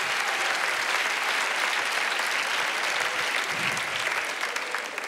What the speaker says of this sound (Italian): Applauso, al coraggio.